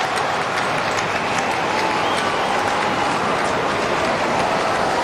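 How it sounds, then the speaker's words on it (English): Scattered polite clapping from a sparse Australian football crowd at an AFL match after a goal, a continuous hissy patter at moderate distance with no cheering standing out. "Some polite clapping, and that's about it."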